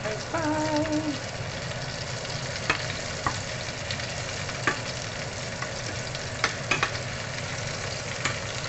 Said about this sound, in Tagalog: Fry.